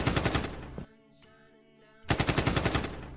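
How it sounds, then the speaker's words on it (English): Rapid gunfire sound effect, a loud burst of machine-gun shots that cuts off abruptly, then a quieter electronic tone, then another dense burst of rapid shots. "I'm going to go ahead and cut my video where the gun sound effect starts"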